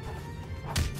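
A Metal Ball ability attack in the video game Deepwoken lands as a single heavy thud near the end, over a steady rumbling game background.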